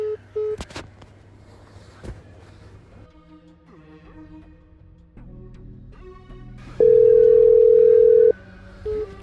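After a phone call cuts off, a telephone line sounds short beeps, then one long, loud steady tone, and a final brief beep. Faint background noise fills the gaps between tones.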